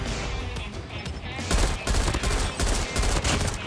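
Rapid automatic gunfire in a Call of Duty Mobile match, with dense bursts of shots that grow louder and near after the first second and keep going in fast overlapping volleys.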